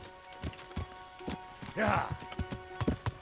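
Horse hooves clip-clopping in Kingdom Come: Deliverance, a steady walking rhythm of distinct hoof strikes, mid-distance, with a short snort partway through and a brief spoken word.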